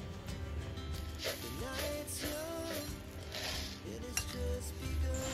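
A spoon scrapes and clinks around a metal bowl while masala muri is tossed with spices and mustard oil, a steady busy clatter with a faint tonal hum in the background.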